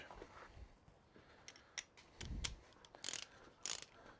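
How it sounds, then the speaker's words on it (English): Faint, close ratcheting clicks from a torque wrench tightening inlet manifold bolts on a VY V6 engine, in short irregular bursts separated by quiet pauses. "torque wrench."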